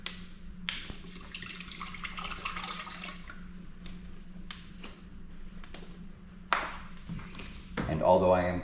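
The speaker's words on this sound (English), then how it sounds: "Putting in some water." Water pours into a juicer jug while apple and carrot juice is being made, a steady splashing wash running under a person talking, with a brief sharper splash near the end.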